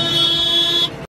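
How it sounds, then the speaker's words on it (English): A combine harvester's warning alarm sounds during a soybean harvest, a loud steady buzzing tone that holds for nearly a second and then cuts off abruptly. "That's the combine honking."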